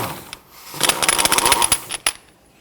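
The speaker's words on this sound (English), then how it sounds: "Using a 30mm socket, loosen and remove the axle nut." An impact wrench buzzing on a front axle nut of a 1992-1996 Toyota Camry with a 30mm socket, a loud rattling whir lasting about a second, followed by a sharp metallic clink.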